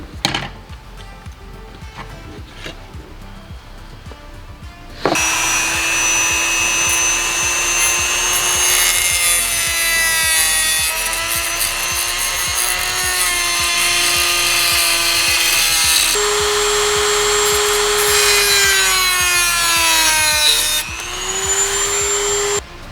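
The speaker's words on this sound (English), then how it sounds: "we actually have to take the Dremel and cut those off" A Dremel rotary tool cuts off plastic pocket tabs inside a Subaru Forester dash, giving a loud, steady high whine whose pitch dips and climbs as the bit bites. It follows a few seconds of quieter handling noise and runs close and continuous.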